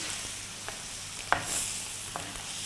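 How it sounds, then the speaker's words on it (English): Butter melting in a hot pan beside a rib-eye steak gives a quiet, steady sizzle with a few soft clicks and scrapes from the pan, no voices. "now I'm going to add some butter. And I'm going to let it melt."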